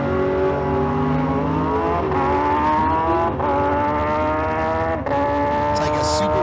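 A junior comp drag car with a motorcycle engine and transmission screams down the racetrack, its high-pitched engine note rising and then dropping at each gear shift, with a commentator talking over it.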